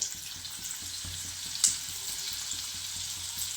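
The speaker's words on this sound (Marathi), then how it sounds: "आता जे आपण लोडके भरून घेतले ते याच्यामध्ये टाकायचे तर गॅस कमीच ठेवायचा आहे" Stuffed ridge gourds frying in a pan with curry leaves over a low flame, a soft steady sizzle with faint crackles and one small clink partway through, no voices.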